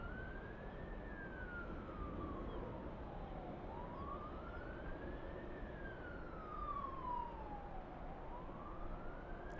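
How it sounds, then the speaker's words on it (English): Emergency vehicle sirens wail in the distance near a LAX airport lounge, a slow rising and falling tone repeating about twice over a steady, faint background rumble. "I hear emergency sirens."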